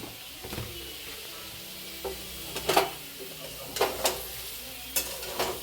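Potatoes fry in a pan with a soft steady sizzle, broken by several sharp scraping and clinking stirs of a utensil against the metal, close and fairly quiet, with no talking.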